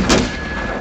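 A mortar fires once in a video game, giving a short muffled thump with a brief burst of noise over steady background game hum.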